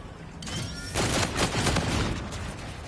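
Legendary G-Rail gun firing rapidly in a shooter game: a loud, dense stream of overlapping shots that swells after the first second and stays steady to the end.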